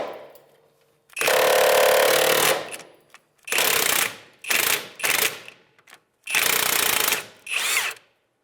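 An impact wrench loosening a 17 mm rear upper control arm bolt on a 2003-2011 Honda Element, hammering close and loud in several separate bursts of uneven length with short pauses between.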